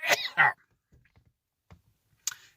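One person sneezes during a live stream, a sharp double burst right at the start, followed by near silence with faint small clicks and a brief breathy noise at the end.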